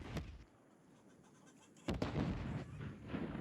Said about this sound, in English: Nade goes up. Does not connect.